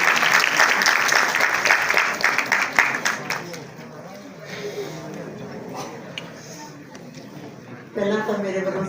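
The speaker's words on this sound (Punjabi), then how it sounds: "ਤੁਹਾਡੇ ਸਾਰਿਆਂ ਦੀਆਂ ਤਾੜੀਆਂ ਤੇ ਖੁੱਲੀਆਂ ਤਾੜੀਆਂ" An audience at an international Punjabi conference claps loudly for a few seconds, and the applause thins and fades as a voice begins speaking, with a brief rise in sound near the end.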